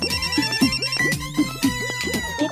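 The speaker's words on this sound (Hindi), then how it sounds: "सबसे पहला फोन भल्ला अंकल को ही लगाते हैं" A cartoon phone ringtone plays loudly in a repeating electronic melody with bouncy, warbling tones, heard alone with no talk.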